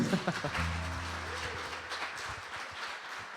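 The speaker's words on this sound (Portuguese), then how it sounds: "dá um forte aplauso para o Senhor aí" A church congregation applauds, steady broadband clapping filling the room, with a voice and sustained tones underneath at the start.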